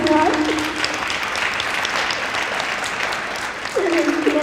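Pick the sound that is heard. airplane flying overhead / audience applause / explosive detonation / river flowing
audience applause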